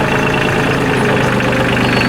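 A Kioti CK27 compact tractor idles in creeper gear, its diesel engine chugging in a steady, loud, low throb from close by for the whole stretch.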